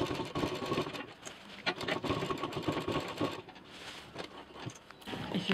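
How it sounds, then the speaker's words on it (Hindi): An electric sewing machine runs steadily, stitching along the seam of a double zipper fabric pouch with a dense, continuous rattling hum and a few brief pauses, close and loud with no talk. "इसको यहाँ से यहाँ तक हम मशीन चला देंगे।"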